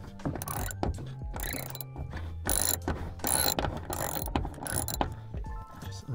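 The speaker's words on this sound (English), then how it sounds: "So it's got 14 mil head on it. You can just crank that off." Rapid clicking of a ratchet wrench cranking off a 14 mm bolt on an R33 GTR, close and in repeated bursts with short pauses, no talk.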